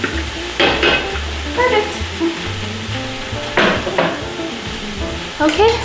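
Small onions sauté in a pan for butternut squash soup, a steady sizzle with stirring scrapes and clatter bursts throughout; one brief word is spoken.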